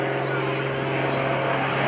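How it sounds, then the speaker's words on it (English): A Pitts Model 12 aerobatic airplane flies at an airshow, its engine a steady, buzzing drone heard throughout beneath an announcer's commentary. "Greg Connell with the pitch Model 12 coming in from the right."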